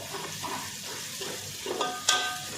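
Onions frying in hot oil until brown for a chicken biryani, a steady soft sizzle with occasional stirring scrapes and one sharper clink near the end, with no voices.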